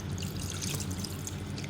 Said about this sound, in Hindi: इस तरह पानी डालना है